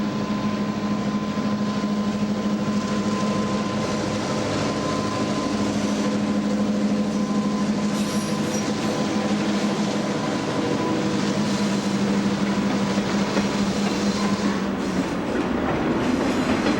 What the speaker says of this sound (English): Now we prepare for the first run of the B&O Cincinnatian on the C&O route.